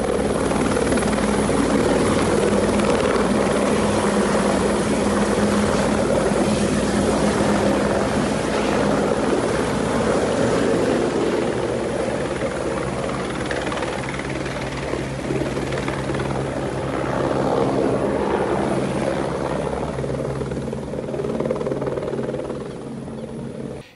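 The CIOPAER police helicopter flies steadily, its loud, continuous rotor and engine roar filling the whole stretch without pause, close and dominant.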